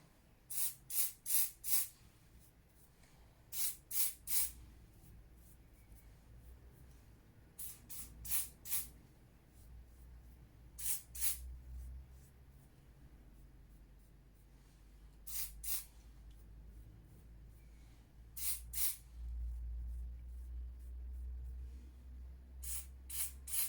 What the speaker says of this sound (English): spray the hair